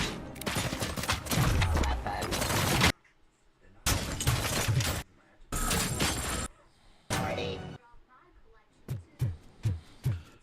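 Heavy machine gun fire in the RoboCop: Rogue City video game, loud dense bursts with short gaps, ending in a few separate booming shots.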